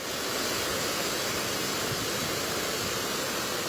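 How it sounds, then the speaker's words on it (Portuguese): Floodwater churns and swirls into a storm drain in a flooded yard, a steady, loud broadband rush of water that holds unbroken and close throughout, with no voices. "No bueiro, um redemoinho se formou."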